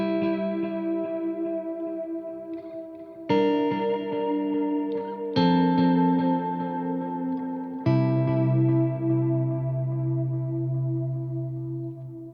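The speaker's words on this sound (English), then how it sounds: "Remember, delay into reverb." Clean electric guitar chords run through delay into reverb, four sustained strums ringing out one after another with lush, echoing ambient tails, played alone without talk.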